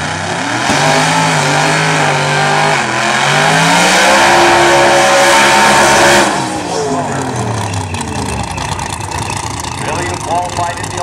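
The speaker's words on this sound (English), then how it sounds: "When Billy does a burnout, you don't miss." An 86 Ford Mustang drag car does a burnout at a Fontana, California drag race: a loud engine revs and climbs in pitch for several seconds, then drops back to a rough idle. A voice talks over it.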